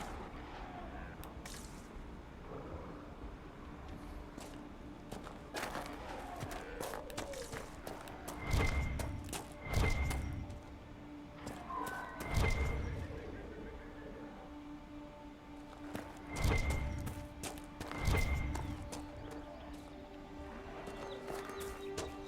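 Druffalo plodding along a road in Dragon Age Inquisition, a series of heavy, distinct hoof thumps spaced a few seconds apart over a low ambient bed of game sound.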